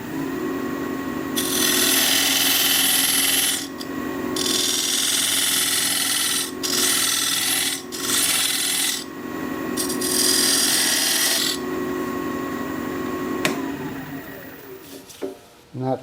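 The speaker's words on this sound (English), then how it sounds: "Now I'm just going to take this diamond point tool to create a straight side on this tenon." A diamond point tool cuts a straight side on the tenon of a natural-edge maple bowl spinning on a wood lathe, giving a close, loud hissing scrape in long sustained passes broken by short pauses, then tapering off at the end.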